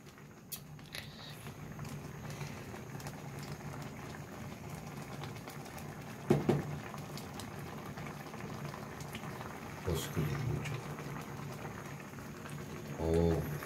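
Wild mountain mushrooms bubble in a cooking pot, a steady low simmer with soft popping and gurgling throughout, a few louder bursts partway through, and faint background noise.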